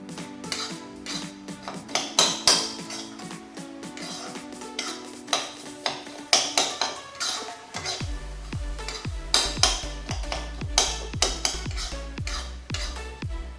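Grated coconut being stirred in a pan for jackfruit elai adai, with repeated utensil scrapes and clinks against the pan, close and fairly steady, a low hum entering partway through.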